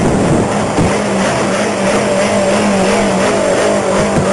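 A car engine runs steadily during a police traffic stop after an accident, a constant loud hum with a droning tone and no pauses.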